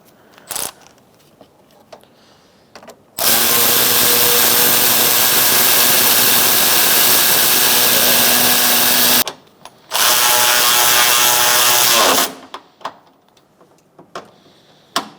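A power drill or impact driver whirs steadily for several seconds, stops briefly, then runs again while tightening down the battery bracket on a 2002-2006 Toyota Camry, loud and close, with small handling clicks before and after.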